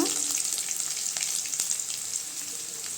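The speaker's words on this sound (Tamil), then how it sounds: "வெங்காயம் நல்லா செவந்து வருதுங்க பாருங்கள்" Sliced onions browning in hot oil for chayote kootu give a dense, even crackling sizzle, close and steady, with faint stirring scrapes underneath.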